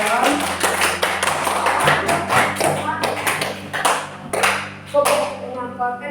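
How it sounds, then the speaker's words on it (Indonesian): Schoolchildren in an elementary classroom clapping together during a geography lesson, a run of close, sharp claps in a loose rhythm, with voices heard in the room. "Ya, beri tepuk tangan."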